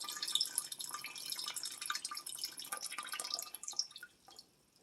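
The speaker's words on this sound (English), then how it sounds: "letting the water run out until it stops dripping" Water drips and trickles out of a Lot-O rock tumbler barrel, a quiet, irregular patter of close drops that thins out and stops near the end.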